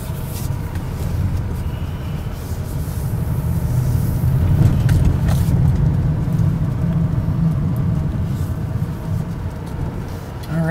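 A 2006 Chevrolet Monte Carlo on a test drive, steady engine and road rumble from inside the cabin holding at a moderate level, with faint scattered noises and no clear talking.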